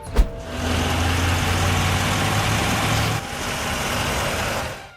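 A Dodge Charger with a 6.1-liter 425-horsepower V8 rumbles in a low, steady idle after a brief click, then drops noticeably quieter partway through.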